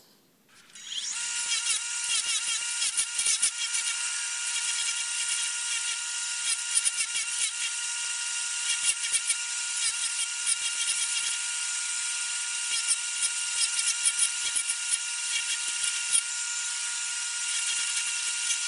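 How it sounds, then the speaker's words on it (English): Continuous, steady high-pitched grinding on a knife handle during rough shaping, a loud sustained whine with slight fluctuations that starts after a brief quiet moment and runs unbroken with no talk. "So that's after some rough grinding, and the handle's looking pretty good."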